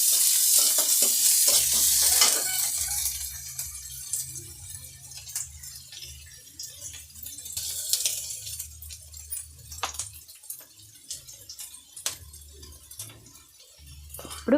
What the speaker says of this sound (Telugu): ఎర్రగడ్డ, కరివేపాకు ఇది కొంచెం ఫ్రై కావాలా